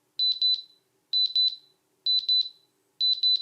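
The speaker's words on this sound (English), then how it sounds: "tapping this button sends out a rather loud, audible beep" Loud, high-pitched locator beeps from a Soundcore AeroClip earbud case sound in quick bursts of three, repeating four times at a steady rhythm with short silences between.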